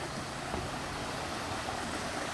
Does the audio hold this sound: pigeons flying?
no